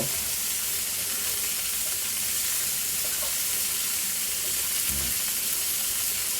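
Squid with butter, onion rings and tomato frying on a hot sizzling plate, a dense, even hiss close up that runs unbroken throughout with only slight low bumps, no voices.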